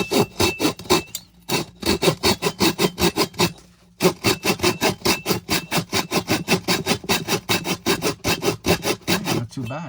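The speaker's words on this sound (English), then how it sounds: "cutting right in" Rapid back-and-forth strokes of a flexible double-edge 6-inch flush-cut hand saw biting into a piece of hardwood, close and steady, with a brief pause near the start and another around four seconds before the rhythmic sawing resumes.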